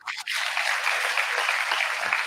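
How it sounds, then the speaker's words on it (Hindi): An audience at an NDMC World Environment Day and Menstrual Hygiene Day 2023 event bursts into dense, sustained applause, loud and close, with no talking over it. "ताली बजा दीजिए।"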